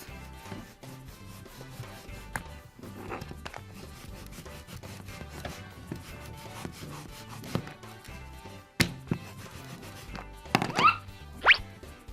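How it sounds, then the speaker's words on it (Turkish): Colourful play dough is rolled out for a pretend dessert, making soft, repeated thunks and rubbing knocks, close by, with a few sharper taps near the end. "Hamuru güzelce açıyoruz."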